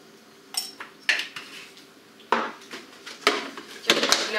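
A spoon stirs rassolnik, a pickle and pearl barley soup, in a pot, giving several separate clinks and scrapes of metal on the pot at irregular intervals, close and moderately loud with quiet pauses between.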